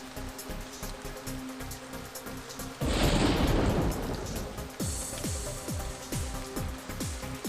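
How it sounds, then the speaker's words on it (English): Rain bursts in from about the three-second mark, a dense, steady wash of falling drops that stays loud to the end, with soft rumbles and a few sliding tones sounding beneath it. "Look, it finally started raining."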